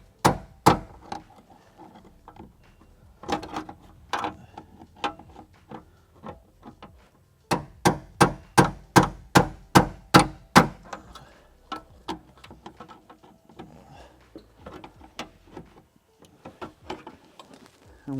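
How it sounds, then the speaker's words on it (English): A hammer strikes a metal punch to remove the fuel tank lock ring on a 2011-2017 Mustang, sharp metallic taps at first scattered, then a fast regular run of blows, then a few more. "we're going to use a punch and a hammer to remove the lock ring"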